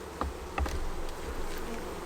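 Honey bees swarm around a white painted wooden beehive with a steady, dense buzzing drone, close and continuous, broken by a few soft knocks.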